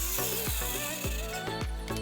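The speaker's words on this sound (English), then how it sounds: "Then clamping a stop block to the fence to ensure making repeatable and exact cuts." Ratcheting clamp being tightened to fix a stop block against a saw fence, a close, loud series of about five clicking ratchet strokes at a fairly even pace over a constant mechanical hum, with no speech.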